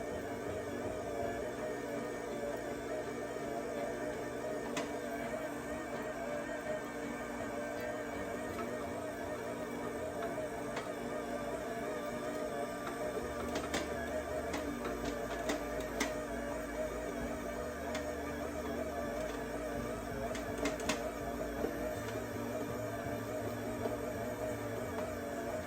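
OSTBA stand mixer churning chocolate chip cookie dough, a steady motor whir and hum that holds an even level throughout with faint rhythmic knocks, no talk.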